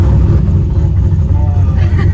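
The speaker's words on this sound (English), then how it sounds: "We're heading over to the hardware store now in the Slayer Camaro." Steady low engine rumble from the Slayer Camaro as it drives along, a loud, continuous bass drone with no distinct revving, while voices talk over it.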